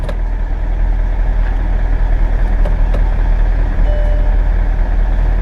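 A Mercedes S600 with a V12 engine, a broken car bought at auction, runs steadily at idle. The low rumble is constant and close, and a faint chime sounds partway through.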